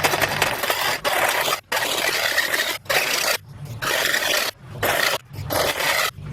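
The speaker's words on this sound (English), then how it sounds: "take your Sawzall and cut right at that gap, because you will cut through that that outer sleeve" A Sawzall saws through the outer sleeve of a rear leaf spring on a Toyota truck: close, harsh rasping strokes in about six bursts, separated by brief pauses, with no talking.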